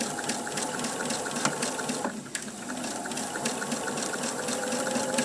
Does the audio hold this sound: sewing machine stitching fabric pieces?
yes